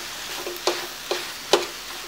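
Mawa is mixed and roasted in a pan for green chickpea dry-fruit laddus: a low, soft sizzle carries three distinct scraping strokes of a spoon against the pan, close and fairly quiet.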